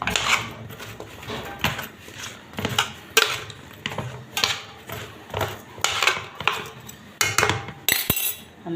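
A potato and chicken wing dish being stirred in a pan with onions, salt, pepper and seven-spice, giving repeated scraping and clinking of a utensil against the pan in an irregular rhythm, close and moderately loud, with no talking.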